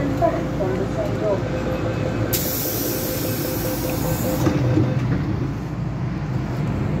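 An MTR metro train (Hong Kong, TWL M-Train) hisses and rumbles alongside a platform, with a burst of bright air hiss in the middle as it pulls away, steady and fairly loud.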